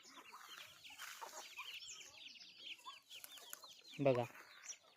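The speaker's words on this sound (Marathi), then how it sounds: "बघा हे पिल्ले कसे उपटून राहिले" Chickens foraging on a natural-base poultry farm, with busy overlapping chirps and clucks throughout and a louder, closer squawk near the end, over faint background sound.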